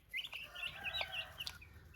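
Week-old meat chickens in Australia give a steady run of high, close chirping calls, several birds overlapping without pause.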